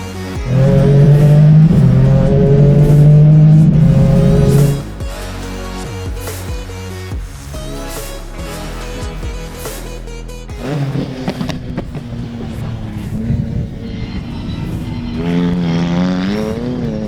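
Nissan GT-R R35 race car on a shakedown run, a loud sustained engine roar for several seconds, then quieter revving and rising acceleration tones from further off, with no voices.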